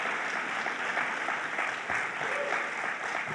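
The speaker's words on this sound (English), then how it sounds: "Let's give her a round of applause." Audience applause at a political event in Farmingdale, New York, broad steady clapping that holds at an even level throughout, with faint voices mixed underneath.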